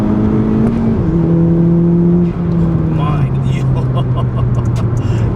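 A 10th-generation Honda Civic Si with an upgraded turbo and full bolt-ons pulls hard in third gear around 4,000 rpm on wet roads. A loud, steady engine drone slowly shifts in pitch, and people talk over it inside the car.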